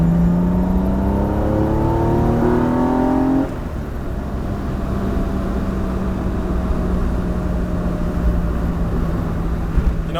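A Honda V6 swapped into an NA Mazda Miata pulls hard in third gear, the engine note climbing steadily for a few seconds, then the revs drop off to a lower steady drone as the car cruises, loud and close from inside.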